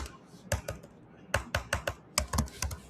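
Close computer keyboard typing as a terminal command is entered, short clusters of crisp key clacks separated by brief pauses, no talking.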